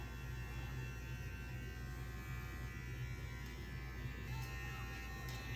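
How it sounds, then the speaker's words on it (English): Electric hair clippers buzz in a steady, close, continuous drone while trimming a child's neckline, an even motor hum throughout with faint talk underneath. "you'll take your clippers and take them almost all the way down to where the blades are even"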